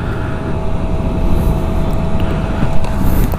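A 2020 Kawasaki ZX10R sport motorcycle riding on the road, its steady engine and wind roar loud and continuous throughout.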